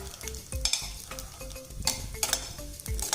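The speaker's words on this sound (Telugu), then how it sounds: "ఇవి కొంచెం బ్రౌన్ కలర్ వచ్చే వరకు వేయించుకోవాలి." Almonds frying in oil in a pan for coconut jaggery laddu, with crackling sizzle and repeated stirring scrapes and clinks of a utensil against the pan, close and busy.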